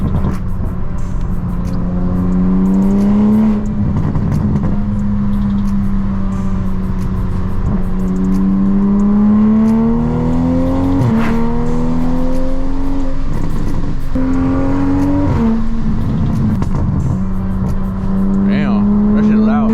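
A loud car engine drones from inside the moving vehicle, rising repeatedly through revving, accelerating pulls and gear shifts, with brief voices in the cabin over the steady roar.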